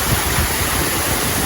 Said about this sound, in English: Waterfall everywhere.